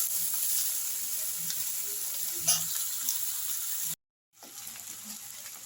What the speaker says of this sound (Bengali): সবজিটা আমি হলুদ নুনের সঙ্গে একটু ভাজা ভাজা করে নিচ্ছি